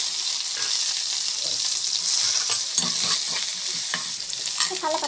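Curry leaves, green chillies and onion sizzle loudly in hot oil with mustard seeds, a dense close crackle under repeated stirring scrapes, with no voices.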